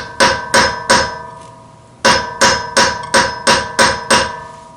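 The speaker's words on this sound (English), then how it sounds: "So we pound it first. We take our nut. Our old socket. Pound it on there." A hammer pounding an old socket onto a Nissan locking wheel lug nut: ten loud, ringing metallic strikes, three spaced blows, a pause, then seven in a quicker steady rhythm, close up with no voices.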